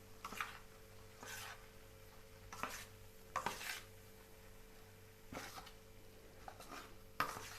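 Churma ladoo mixture being stirred and mixed in a vessel, with soft intermittent scraping and clinking strokes, quiet and close, separated by short pauses, no talking.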